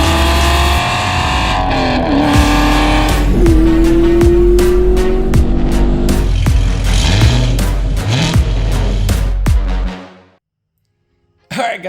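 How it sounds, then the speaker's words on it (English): A 1985 Pontiac Trans Am with a swapped LQ4 6.0 V8 revs loud and close with rising engine whine and tire squeal, then cuts off abruptly into silence before a brief final burst. "Today we're going for the first drive in the Trans Am."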